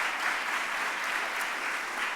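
Brief, steady applause from students and guests at a mayor's press conference, a moderate wash of clapping throughout.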